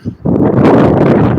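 Strong wind buffeting an outdoor microphone out on the dunes, a steady loud low roar that rises after a brief dip and holds without letup.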